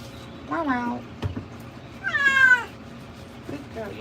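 A cat gives several clear, close meows separated by short pauses while its pelt is being removed. A soft background hum sits underneath.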